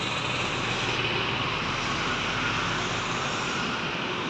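A JRG Deswit Class sleeper bus pulls away on a road. A steady, broad engine and road roar holds loud and continuous throughout, with no voices.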